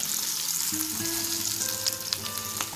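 Shami kebabs frying in a pan, a steady close sizzle with brief scraping and tonal clinks from turning them, no talk.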